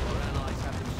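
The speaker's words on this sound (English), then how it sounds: "Boom, big Demolisher Cannon going off." A Demolisher Cannon fires in the strategy game Dawn of War 2: Retribution, a short, dense, booming blast of battlefield gunfire, partly under a talking voice.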